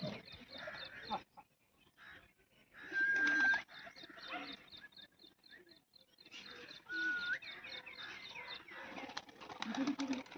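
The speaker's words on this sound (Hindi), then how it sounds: "भुखी है कबूतरी आ गई नीचे" Pigeons cooing softly nearby in short bursts, with several quick flurries of wing flapping and faint chirps, fairly quiet overall with pauses between sounds.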